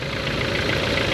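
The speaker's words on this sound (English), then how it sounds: "Charging test, start engine." Kia Soul engine idling during an alternator charging test, a steady, even mechanical hum with a faint knock-like texture, close and continuous throughout the short stretch with no talking.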